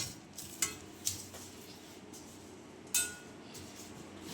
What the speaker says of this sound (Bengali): এটাকে দিয়ে সিম করে একটু নাড়া শুকনো খোলায় একটু নাড়া করা